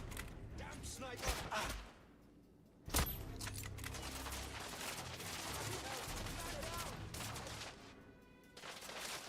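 Sniper fire in a video game rings out as sharp, loud gunshot cracks, one standing out sharply, set against a dense, continuous stretch of battle noise and clatter.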